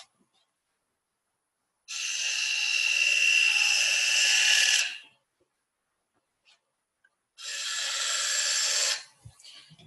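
A wood lathe turns a chamfer with a spindle gouge, two sustained loud bursts of shrill, steady cutting noise, the first about three seconds long and the second shorter, separated by near silence with faint ticks.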